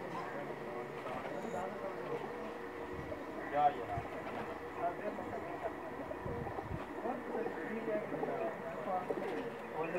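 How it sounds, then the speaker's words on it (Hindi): Tournament-flying pigeons coo softly amid a busy, noisy background of murmuring voices and low rumble, the calls blending into the steady din. "सब टूर्नामेंट में उड़ने वाले कबूतर हैं जी इनके।"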